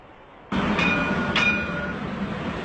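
A tram passing on a street in Jerusalem, arriving with a sudden loud rush of rolling wheels and a steady mechanical whine, staying close and fairly loud, then easing slightly, with no talk.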